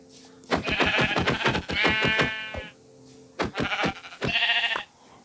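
A video game sheep bleats loudly and close in repeated wavering calls, two long groups separated by a short pause, with no talk over them.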